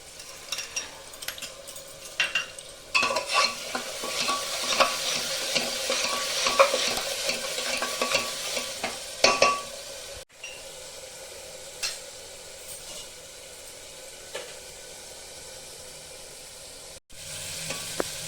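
Chana masala spice paste fries and is stirred in a pan for rajma masala, with busy sizzling and scraping spoon strokes for about ten seconds, then a quieter, sparser sizzle with occasional stirs.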